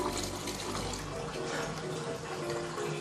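Rice being rinsed in water in a home kitchen before steaming, a steady continuous splashing and sloshing close by, fairly loud and unbroken throughout with no talk over it.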